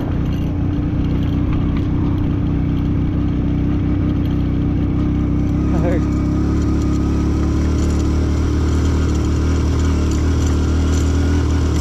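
A Passion Pro motorcycle engine labours steadily up the Zoji La mountain pass, a loud continuous drone that stays close and even throughout.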